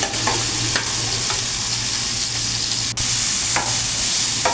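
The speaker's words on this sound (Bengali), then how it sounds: "একসাথে মাছ কষাবো আর একসাথে শাক কষাবো" Fish and pumpkin-leaf greens stir-fried in a wok, a steady dense sizzle with a low hum underneath and occasional scraping stirs, close and continuous with no talking.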